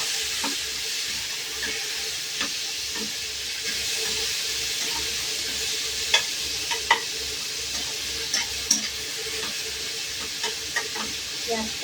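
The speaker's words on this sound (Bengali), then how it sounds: "পেঁয়াজটাকে ততক্ষণ লাল লাল করি" Chopped onions fry in oil in a pan after potatoes, giving a steady broad sizzle with a few sharp clicks of stirring scattered throughout. Nobody speaks.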